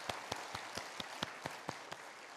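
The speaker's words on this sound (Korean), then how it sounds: "어제 꽃장식을 해주신 우리 꽃장식 팀한테도 우리 감사의 박수 올리겠습니다" A church congregation claps in thanks during a Sunday service, a dense wash of applause with several sharper claps standing out at a steady pace, moderately loud and with no voices over it.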